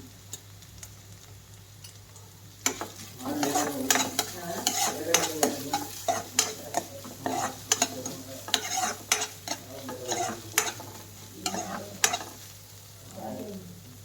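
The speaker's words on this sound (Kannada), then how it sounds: "ನಾವು ಸ್ವಲ್ಪ ಫ್ರೈ ಮಾಡ್ಕೊಳ್ಳೋಣ ಸೊ ಇದಕ್ಕೆ ಟೊಮೊಟೊ ಮತ್ತು ಹಸಿಮೆಣಸಿನ್ಕಾಯಿ ಆ್ಯಡ್ ಮಾಡ್ತೀನಿ" Tomato and green chilli fry in a pan while being stirred, bringing a steady sizzle under repeated close scraping and clinking of a spoon against the pan, which begins a few seconds in and carries on to the end.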